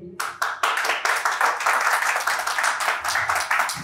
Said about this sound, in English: So let's give them a round of applause once again.